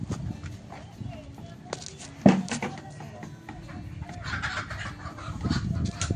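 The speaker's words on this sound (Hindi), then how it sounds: "ये सारी कड़कनाथ मुर्गियाँ हैं" Kadaknath chickens on a poultry farm cluck and squawk in short bursts, close and moderately loud, over a background of someone talking and shuffling footsteps.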